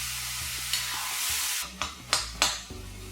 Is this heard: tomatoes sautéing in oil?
yes